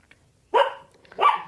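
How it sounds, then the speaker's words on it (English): A dog barks twice from close by, two sharp, loud barks about half a second apart with quiet in between. "I'm sorry about my dog"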